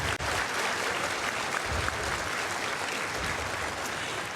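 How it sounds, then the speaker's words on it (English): Sustained audience applause fills a large hall at TennoCon 2024, the Warframe fan convention, a dense steady wash of many hands clapping at close range with no break for the full few seconds. "Again, another applause for our wonderful team."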